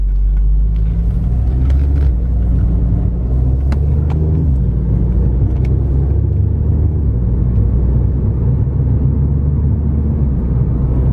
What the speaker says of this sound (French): Allez, on va faire l'essai routier.